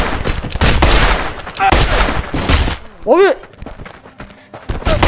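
Gunfire in the video game Blade and Sorcery, played with mods, comes as loud rapid bursts of shots and impacts up close, with a voice briefly speaking over it.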